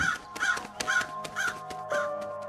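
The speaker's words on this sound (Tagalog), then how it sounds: "mabilis na nagliparang palayo ang napakaraming uwak na nakadapo sa bubungan at sa matandang puno ng santol sa gilid ng bahay ni Tatang Ruben" A flock of crows caws harshly and repeatedly, roughly a call every half second, close and loud, as the birds lift off from a house roof and an old santol tree beside it.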